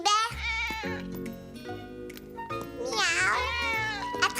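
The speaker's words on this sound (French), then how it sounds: "Gilbert est un chat, ce n'est pas un humain." Cartoon cat character meowing in a French children's animated show, several bright expressive meows over a light musical accompaniment, soft and close.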